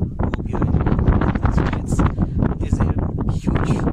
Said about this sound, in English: there's a huge wind gust, so I believe that my voice would not be clear